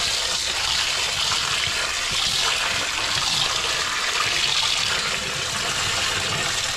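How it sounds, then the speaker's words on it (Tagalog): Strong water gushing from a tap in a home kitchen, a steady loud rushing hiss that runs unbroken and close for the whole stretch. "Lakas ang tubig, oh."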